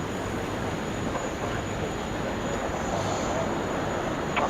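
A Qantas Airbus A330-300 taxis at an airport toward a runway holding point, heard as a steady broadband engine roar with a thin high whine running through it. Radio voices talk over the rumble.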